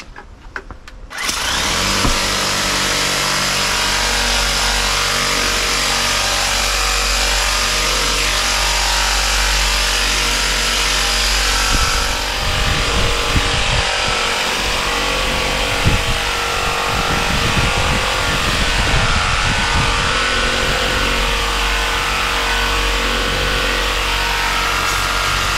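AIVolt battery-powered portable pressure washer sprays outdoors to clean dirt off a surface, a loud continuous hissing rush that shifts in tone partway through as the spray moves, with no voices.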